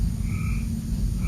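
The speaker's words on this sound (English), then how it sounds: "Can you hear the crickets? Those are frogs." Frogs croak continuously in a dense, low pulsing chorus at night in Texas, loud and close, with a few faint higher calls above and no talking.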